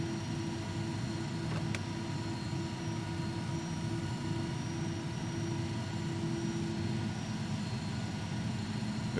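Cessna Citation II jet engines from an X-Plane 11 sound pack, a steady droning hum with a constant whine, continuous and even in level, heard alone without talk.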